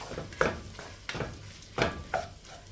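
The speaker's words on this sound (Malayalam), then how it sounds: "ഒന്ന് പച്ചമണം മാറുന്നത് വരെ ഒന്ന് ഇളക്കി കൊടുക്കുക" A spoon stirs chilli powder and turmeric through a thick masala in a pan, giving four or five distinct scraping strokes over a faint sizzle, close and fairly quiet, with no talk.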